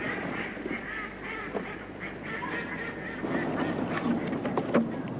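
Ducks quack and honk in a continuous outdoor chorus at a duck decoy trap, with scattered calls overlapping at moderate distance.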